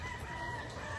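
Chickens cluck faintly on a poultry farm raising pullets, a brief, distant snatch of calls with no voices.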